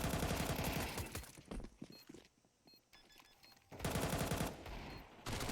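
Counter-Strike 2 match gunfire from M4 rifles and an SMG, rapid automatic bursts with a quieter stretch of scattered clicks and footsteps in between, loud and close with no voices.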